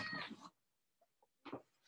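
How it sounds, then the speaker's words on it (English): A cat crying indoors, heard as two short, faint, high mewing cries spaced apart in a quiet gap between stretches of a man's speech. "I've got a crying cat come in behind me"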